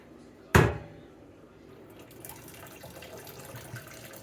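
Water pours from a pot into a strainer of noodles in a kitchen sink, opening with a sharp splash and then trailing off into a faint, steady trickle and patter of draining water.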